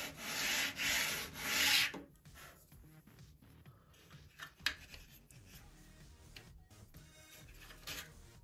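A brief burst of light sanding on a wooden part for a Top Flite .60 size P-40E Warhawk model airplane gives loud, close, rasping strokes for about two seconds, followed by quieter handling and rubbing noises.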